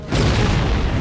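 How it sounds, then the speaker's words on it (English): A grenade blast in a shooter video game: a sudden loud, broad boom that swells at once and rumbles on for about a second, with no talk over it. "Get grenaded."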